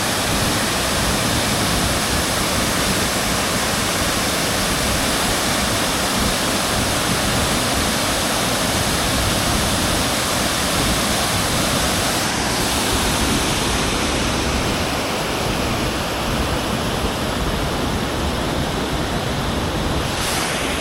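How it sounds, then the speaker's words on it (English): A waterfall in Laos, swollen after recent rain, pours in a steady, dense roar of rushing water that stays loud and unbroken throughout, with no voices. "I'm sure the rain we got yesterday is really helping this waterfall flow."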